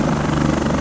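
A video-game helicopter's rotor and engine drone loudly and steadily, with a faint rhythmic chop throughout the short burst and no voices.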